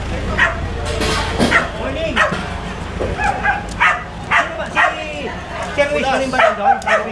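A dog barks and yips several times in short bursts, mixed in with people talking and calling out nearby.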